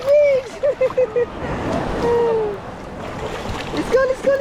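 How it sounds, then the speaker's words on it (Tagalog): Big ocean waves at Es Canar Beach wash in as broad, hissing surges beneath a child's squeals and nearby family chatter. "big waves ay, big waves"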